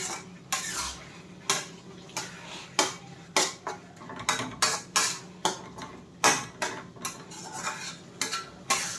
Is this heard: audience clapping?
no